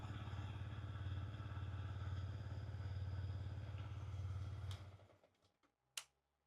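A Yamaha R125 motorcycle with its stock OEM exhaust runs at a steady idle for several seconds, then cuts off, leaving faint clicks and a sharp tick in the quiet.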